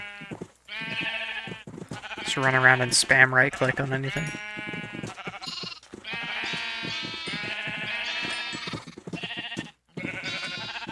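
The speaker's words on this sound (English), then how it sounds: "Let's feed the sheep" Minecraft sheep bleat several times in quick succession over game sounds while someone talks on and off across the whole stretch.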